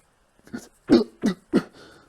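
A short series of harsh coughs, about four quick bursts close by, with nothing else around them.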